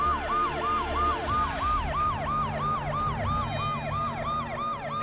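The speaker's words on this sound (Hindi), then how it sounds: "हमारे घर पर एम्बुलेंस?" An ambulance siren wails at a house, its rising and falling tone repeating steadily and loudly throughout with a layered second siren pitch above, over low traffic-like rumble.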